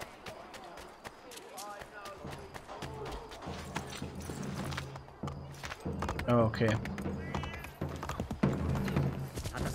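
Rhythmic hoofbeats of a horse in Assassin's Creed III clip-clop steadily through most of the clip, with a short spoken word and some game sounds mixed in.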